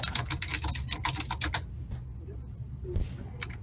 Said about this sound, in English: you're hammer typing